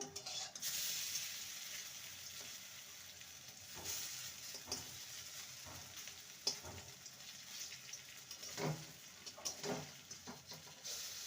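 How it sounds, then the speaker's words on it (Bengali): Kohlrabi fritters fry quietly in a pan of oil, a soft continuous sizzle broken by intermittent stirring and turning clatter. "বড়াগুলো ভাজা হয়ে গেছে এবার তুলে নেব"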